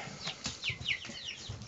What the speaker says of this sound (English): And here's the chickens.